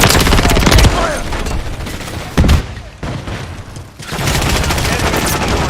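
Video game gunfire in an objective-capture battle: loud, rapid bursts of automatic fire with a brief pause midway, then dense shooting resuming.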